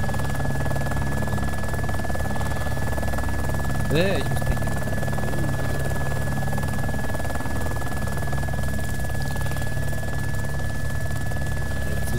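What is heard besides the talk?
helicopter in video game DayZ Epoch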